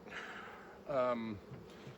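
Honey bees during a spring hive inspection make a short, close buzzing drone that swells for about half a second above a quiet outdoor background.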